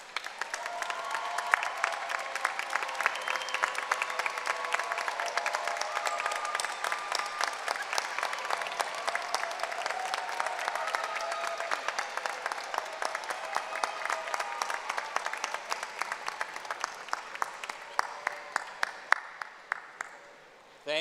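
Families and friends at a university graduate commencement ceremony give the graduates a long, loud round of applause, dense crowd clapping that holds steady for about twenty seconds before thinning into scattered claps at the end.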